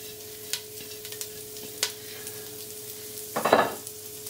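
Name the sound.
broccoli cooking in a pan, stirred with a wooden spoon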